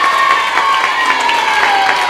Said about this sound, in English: How about a round of applause for the Jack and Jills